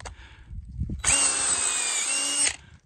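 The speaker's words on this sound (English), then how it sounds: "all I gotta do is walk up to the tree," A power drill bores a tap hole into a maple tree in one steady, close whine lasting about a second and a half, preceded by faint outdoor shuffling.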